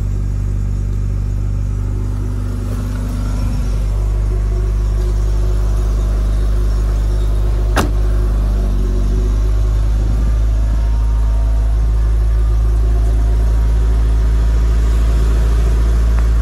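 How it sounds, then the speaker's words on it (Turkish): A Tofaş car engine idles loudly and close after a cold start, a deep steady rumble with a brief rev in the first few seconds and a sharp click midway, then settles into a constant drone. "Araba çalıştığında kendine bir gaz veriyor."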